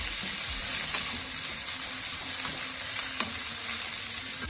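Steady, dense sizzle of red and yellow peppers and other vegetables frying in oil in a pan, close and continuous, with a few faint stirring taps.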